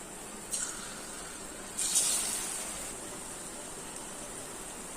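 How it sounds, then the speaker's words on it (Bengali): Batter fritters drop into hot oil in a wok and sizzle as a steady hiss, with a short burst near the start and a louder surge of crackling that then settles into continuous frying. "বড়াগুলো ছেড়ে দিই।"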